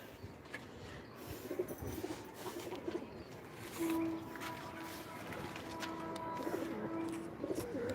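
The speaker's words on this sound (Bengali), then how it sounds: "এখানে অনেকগুলো পায়রা আছে অনেকগুলো পায়রার ঘর" Pigeons coo in their wooden houses on a rooftop, low steady calls rising and falling through a busy outdoor background, with brief sustained notes and scattered bird sounds but no talking.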